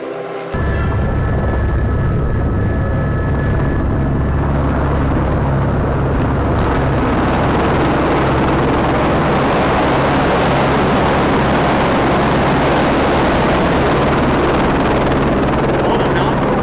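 A helicopter in a played news clip, starting abruptly and then holding as a loud, steady rotor roar with a low droning hum throughout.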